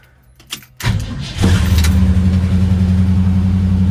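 A 1968 Ford Ranchero with a 289 V8 cranks over, catches and starts, running rough for a moment before settling into a steady, loud idle with a slight rev close by.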